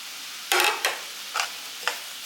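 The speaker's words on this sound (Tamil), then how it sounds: "இந்த நெய்யிலே சிறு தீயிலே வச்சு நல்லா வறுத்துருங்க கொஞ்சம் பொறுமையாக வறுக்கணும் ரவையை" Semolina roasting in ghee over a low flame for rava kesari, four short scraping stirs against a pan over a faint quiet background, close by.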